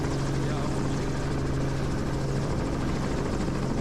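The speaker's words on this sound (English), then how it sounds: "the roar of helicopters tears through the quiet air" Loud, continuous helicopter roar over the Kakadu swamps of northern Australia, with a heavy rotor beat and engine whine, close overhead and unbroken throughout.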